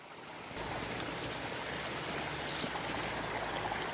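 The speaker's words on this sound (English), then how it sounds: "I'm gonna show you a little bit more of the waterfall." A steady rush of falling water from a waterfall beside a pond begins abruptly and then continues as constant, moderately faint splashing hiss.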